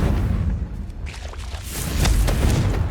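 Confringo fire-blast spell bursts in Hogwarts Legacy, deep rumbling booms and crackling impacts layered in a dense, loud stretch with a heavier surge toward the end.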